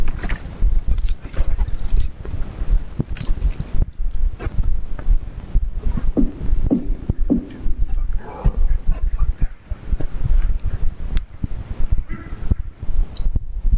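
Keys jangle loudly and repeatedly close by, mixed with scuffling movement and a dog's faint whimpers and yips.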